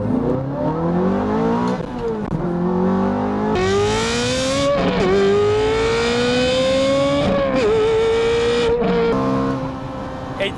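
Straight-piped Ferrari F430 V8 revving hard and loud in repeated rising pulls, each climbing to a sharp, raspy howl before dropping back, recorded close with no other sounds over it.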